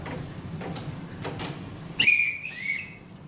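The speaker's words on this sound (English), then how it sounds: "Everyone in this house answers to a whistle." A shrill two-note whistle is blown to summon household staff in a school stage production of The Sound of Music, following a few soft thumps and footsteps on stage.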